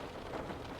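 Steady rain patters outside a car parked by an old academic building under streetlights at night, a soft continuous wash of drops heard from inside, with no voices.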